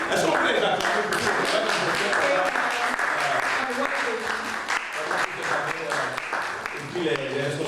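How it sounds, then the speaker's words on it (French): Audience applause and cheering in a church gathering, honoring the children's and youth ministry workers; dense, steady clapping fills the room for several seconds, with voices rising through it. "Est-ce qu'on peut les acclamer"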